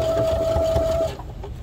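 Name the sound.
sewing machine stitching webbing for a garden kneeling pad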